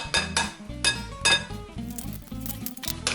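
Egg and caster sugar being whisked together in a bowl, with a run of sharp metallic clinks as the utensil knocks the bowl's sides in quick, repeated bursts, close and fairly loud, with no talking.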